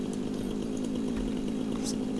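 A chainsaw in the video game Satisfactory buzzes continuously at a steady high drone, loud and close, with no talk over it.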